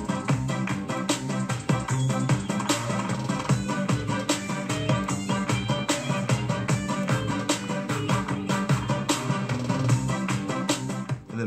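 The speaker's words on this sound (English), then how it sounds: "the next thing I added was some hi-hats and a snap to layer the snare and to give it a little bit more movement" A dense Fortnite Squat Kick emote remix beat with busy hi-hats and a snap layered on the snare, running continuously at a steady tempo under full music, with no voices.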